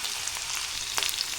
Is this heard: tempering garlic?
yes